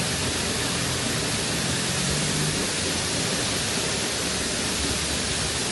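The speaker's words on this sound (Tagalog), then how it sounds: "Guys, we're leaving the falls now." A waterfall at Cascata Vallategna roars in a steady, dense wash of rushing water, close and unbroken throughout, with no voices.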